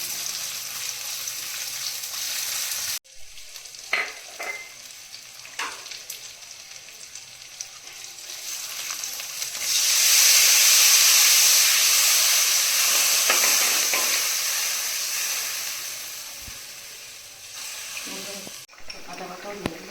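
Potatoes sizzle and fry in a pan for a Bengali banana-flower (mocha) vegetarian dish, with spoon scrapes and stirring clatter over a steady loud hiss that swells midway.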